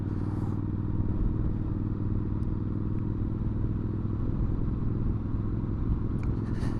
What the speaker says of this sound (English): she's just purring along nicely with that lovely sound from that exhaust